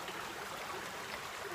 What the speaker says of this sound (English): It's a little stream at the bottom.